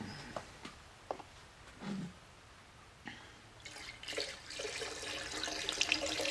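Water runs and splashes from a tap during a water test of an engine block, starting with scattered drips and clatters, then building into a steady, hissing flow that grows louder toward the end.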